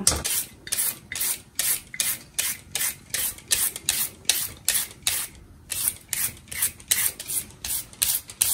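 Cucumber rasped over a grater for maki sushi, a steady run of about two dozen quick, crisp scraping strokes at an even rhythm, close and fairly loud with short pauses between.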